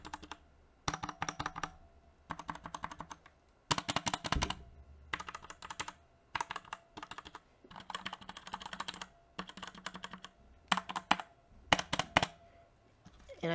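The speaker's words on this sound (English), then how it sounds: "what I have here is the Linear Cherry MX Blacks" Close-miked typing on a keyboard with linear Cherry MX Black switches: bursts of rapid, dense clacking alternate with brief pauses, crisp and fairly loud, with no voice.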